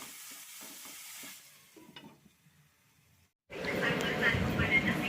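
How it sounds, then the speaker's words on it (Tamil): Tomatoes, onions, salt and turmeric fry in a pan for anchovy fish gravy, with scraping stirs at first, a pause, then a loud, steady sizzle close by. "அதோட தேவையான அளவு உப்பு கொஞ்சம் மஞ்சத்தூள் போட்டு நல்லா கிளறிட்டு மூடி வச்சுருங்க"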